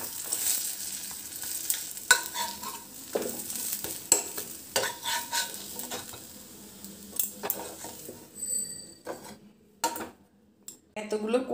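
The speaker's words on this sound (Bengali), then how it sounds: "আর এই যে একটুখানি ঘিতে আবার আমি ফ্রাই করে নিই," Small batter cakes frying in a little ghee, made from semolina, flour and rice powder, with close scraping, stirring and utensil clinks over a soft sizzle, broken by brief pauses.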